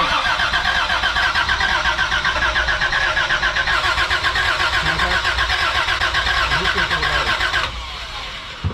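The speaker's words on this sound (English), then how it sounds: "Are you starting it yet?" A Toyota FJ60 engine cranking with a long rapid rhythmic starter churn, loud and close, before the sound drops to a quieter running note near the end.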